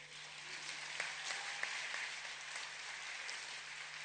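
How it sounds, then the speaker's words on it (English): Faint, distant audience applause at a formal conference hall event honouring President Samia Suluhu Hassan at KICC, a continuous soft patter of clapping with a few louder claps standing out and a low steady hum underneath. "Another round of applause for President Samia Suluhu Hassan"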